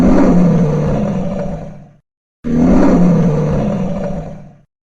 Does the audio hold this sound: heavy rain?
no